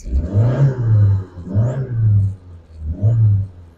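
A 1986 Dodge Shelby Charger Turbo engine given three light revs, each a swelling mid-pitched rumble that rises and falls back to idle, close and loud with no talk.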